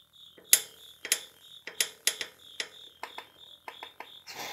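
A wrench ratchets against a very tight bolt on a Honda TRX250R, giving a close series of sharp clicks and creaks in uneven bursts, roughly a dozen strokes with brief pauses, and no talking.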